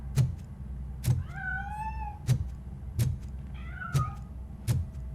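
Two meows from a cat in RoboCop Rogue City, clear upward-gliding cries standing out over a low steady game hum punctuated by regular soft thuds.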